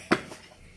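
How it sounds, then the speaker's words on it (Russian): Dishes being washed in a home kitchen, a single sharp clink of crockery or cutlery followed by a softer knock, close by and fairly quiet. "Вон мама готовит там что-то, посуду моет."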